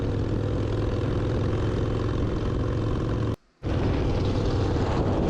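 A fast Yamaha or Honda hardtail motorcycle, not a Harley, riding at a shovelhead rally. Its engine and road noise form a steady, loud, continuous drone that drops out to silence for an instant before resuming.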